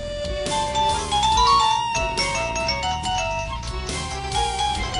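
A mobile phone ringtone plays as a steady, loud melodic tune for the whole stretch, with no talk over it, in a Bangla drama scene.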